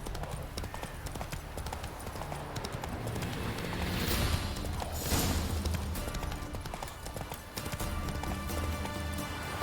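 Horse hooves clip-clop at a steady gallop in The Witcher 3, loud and continuous across the whole stretch, with a brief neigh-like swell in the middle and no talking.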